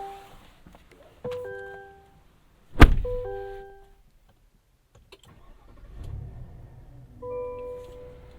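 A 2022 Chevrolet Silverado 1500 ZR2 truck inside the cab: electronic chimes, then a sharp crank and loud startup roar that settles into a quiet idle, with more chimes and a faint rise in engine hum later.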